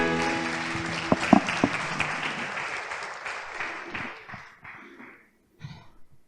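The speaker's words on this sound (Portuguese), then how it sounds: "Aplauda o Senhor." A church congregation at a worship service applauds with a full, continuous burst of clapping. A few voices rise over it early on, then the applause thins and fades to near silence before a brief stir at the end.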